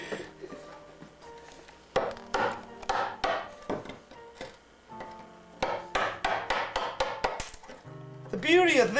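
Sharp, repeated hammer blows striking a 1-inch chisel into wood, coming in quick bursts with brief pauses, close and loud.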